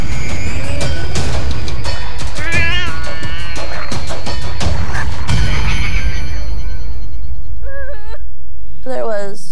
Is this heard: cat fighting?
yes